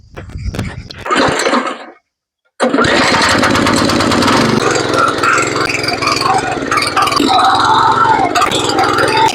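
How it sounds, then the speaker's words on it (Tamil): A power weeder's small engine runs along the edge of a field. A brief sputtering start and a short silence give way to a loud, steady, buzzing drone close by that continues to the end. "இப்போ நம்ம பவர் விடர் வச்சு அந்த ஓரம் மட்டும் லைட்டாக ஓட்டிட்டு"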